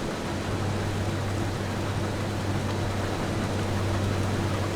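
Steady rain falls in the Farming Simulator 25 farm game, a dense, even hiss with a low constant hum beneath, holding at the same moderate level throughout with no voices.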